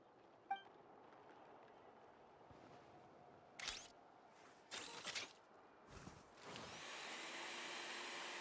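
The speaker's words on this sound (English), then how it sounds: "No, that is a vacuum." A robot maid's vacuum in a video game runs as a steady, quiet whir that swells from about 6.5 seconds, after a few brief mechanical clicks and bursts.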